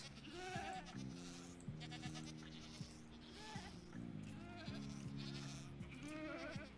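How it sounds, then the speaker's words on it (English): Several goats in Minecraft bleat repeatedly around the listener, their overlapping nasal cries coming one after another at varied pitches over a quiet background. "You are now surrounded by goats. A bunch of goats."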